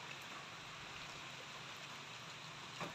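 Rain falls outdoors as a faint, steady hiss that carries on evenly from start to end, with no voices.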